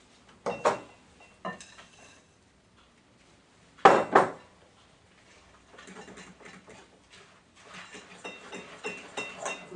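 Crushed speculoos biscuits being mixed into a white chocolate cake batter in a bowl, giving irregular clinks and scrapes of a utensil against the dish, with a couple of sharper knocks followed by steadier stirring.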